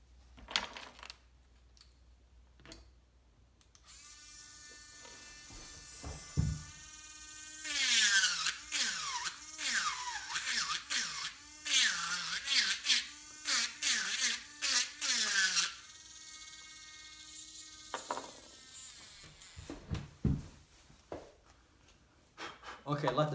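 A power carving tool fitted with a Customizer bit cuts into wood, a close, high whine that rises and falls as the bit bites and chatters through the workpiece, with brief talk before and after.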